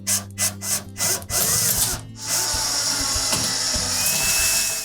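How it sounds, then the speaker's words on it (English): A power driver runs in short bursts tightening the terminal block screws on a Whirlpool electric range, several quick whirring pulses followed by longer sustained spins with scraping and handling noises, close and without talk. "Then we'll tighten those screws for the terminal blocks."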